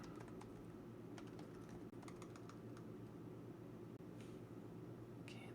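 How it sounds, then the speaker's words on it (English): Typing on a new computer keyboard: quick bursts of close, crisp key clicks in uneven clusters, separated by brief pauses, over a steady low hum of room and fan noise, with no talking. "Got to get used to this new keyboard."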